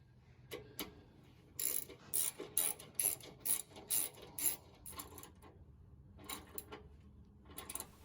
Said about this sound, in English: Then install the last of the 4 bolts.